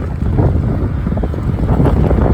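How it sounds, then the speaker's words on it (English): Steady, heavy wind buffeting the microphone while riding a fat tire e-bike, a continuous low rumble and roar throughout with no voices. "really windy today."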